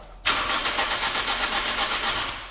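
A Toyota engine cranks and catches abruptly, then runs with a rough, loud, continuous rumble close by that tapers slightly toward the end.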